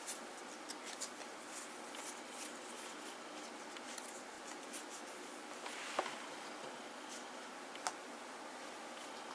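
Pen scratching on paper while Babylon 5 collectible cards are ticked off a checklist, soft close scribbles and ticks with a couple of sharper taps, quiet room.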